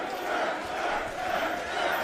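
A packed capacity crowd at an AAW Pro wrestling show at 115 Bourbon Street cheers and roars in a steady, dense wash of noise that stays level and continuous throughout.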